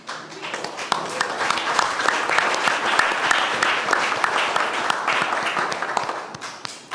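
Audience applauding at a human rights and climate justice event, a dense, steady wash of many hands clapping that holds for several seconds, loud and close, with no talking over it.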